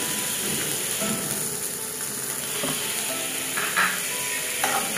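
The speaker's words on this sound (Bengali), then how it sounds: "কালো জিরাটা হালকা একটু ভেজে নিব।" Black cumin seeds fry lightly in a pan with a steady soft sizzle, joined by a few faint stirring scrapes and clinks.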